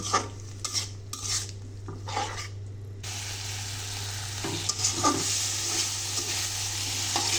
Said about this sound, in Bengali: এটা আমি ভালোভাবে মশলার সাথে কষিয়ে নেব